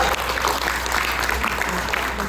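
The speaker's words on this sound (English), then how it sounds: "So I think we must give him another big round of applause." A hotel function-room audience in Cebu breaks into sustained applause, many hands clapping in a dense, even roar with a low hum beneath, no voices standing out.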